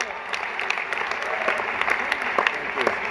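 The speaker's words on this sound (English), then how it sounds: "Can we have a round of applause for Chuck Schumer?" An audience at a charity dinner applauds, with continuous crowded clapping at moderate volume, scattered louder claps and a few voices mixed into the steady wash of applause.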